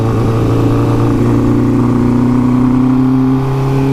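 A 1981 Honda CB900F motorcycle engine revving, a loud, close, steady roar with a rising harmonic drone as the revs climb and hold.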